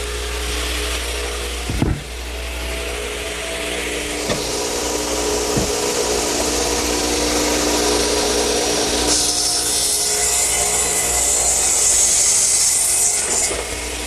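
A saw cuts through wooden picnic table legs with a steady rasping stroke that continues throughout, close up, with a few knocks early on and no voices.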